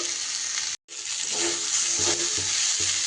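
Fenugreek greens crackle and sizzle continuously in hot oil in a pan, with a brief gap, then soft stirring thumps under the steady hiss.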